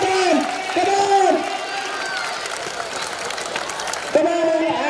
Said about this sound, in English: Come on, audience, cheer for them!